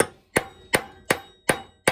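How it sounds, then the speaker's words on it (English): A glass strikes a hard metal object in a clutch drum rebuild setting, five sharp evenly spaced clangs about every 0.37 seconds, loud and close with ringing decay, no talk. "That's my glass hitting the derby."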